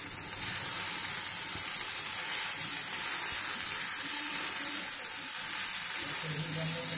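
Whole spices and pav bhaji masala are stirred in a hot pan for Mumbai-style tomato pulao, with a steady, close sizzle and hiss running throughout and faint scraping underneath.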